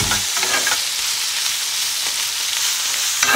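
Mushrooms sizzle and fry steadily in a hot pan, a continuous close crackling hiss with no voices.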